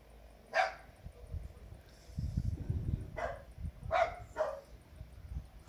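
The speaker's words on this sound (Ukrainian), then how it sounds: "Собаки валують, як скажені." Several dogs bark in short, separate bursts at a rural homestead, with about four sharp barks spread across the moment against low outdoor rumble and a faint steady background tone.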